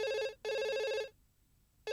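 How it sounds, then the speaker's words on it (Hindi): Telephone bell ringing in loud repeated electronic bursts, two long rings separated by a brief gap, then a pause of silence before the next ring begins. "रम्या, मर्सी, तुम्हारा फोन"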